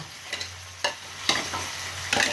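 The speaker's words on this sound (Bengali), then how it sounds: "আমি একটু একটু করে জলটা ছড়িয়ে দিচ্ছি।" Paneer frying in a pan as water is sprinkled over it, a close hissing sizzle punctuated by several sharp bursts as the drops hit the hot surface, with faint stirring between; no voices.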